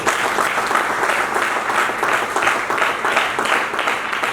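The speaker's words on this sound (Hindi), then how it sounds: "ताली होनी चाहिए सर के लिए जबरदस्त" A sales training hall full of people breaks into sustained, loud applause, dense and even clapping that carries on throughout without pause.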